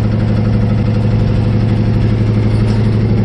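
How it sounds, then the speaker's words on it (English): A 1957 Ford F350 dump truck's old engine runs loud and steady while the dump bed is raised by a new heavy-duty red hydraulic cylinder, giving a continuous low, rough, mechanical drone close by. "It's noisy, but it's an old truck and it works."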